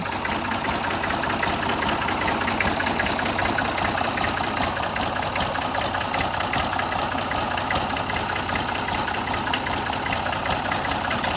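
A heavy tractor engine idles steadily throughout, a continuous low rumble with a faint rhythmic knock, close by and loud, with no voices.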